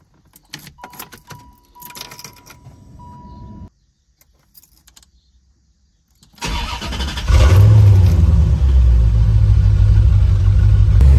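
Keys jangle and click, a pause of near silence, then a Corvette C4 engine cranks after a battery change, catches and settles into a loud, steady idle up close.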